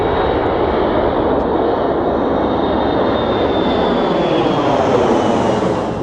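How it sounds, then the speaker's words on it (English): Steady, loud roar of a fixed-wing aircraft engine at Santiago airport in Chile, a continuous broadband rumble with a faint high whine, heard from a van parked beside the airfield, no talk. "Why would I want to camp next to a noisy airport?"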